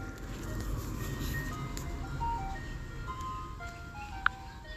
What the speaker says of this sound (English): damn ice cream truck trying to get that last little money